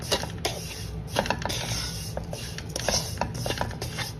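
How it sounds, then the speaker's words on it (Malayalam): Milk powder stirred into a mixture in a bowl: continuous close scraping and rubbing with repeated clicking strokes at an uneven rhythm. "അത് നല്ലതുപോലെ ഒന്ന് ഇളക്കി കൊടുക്കണം"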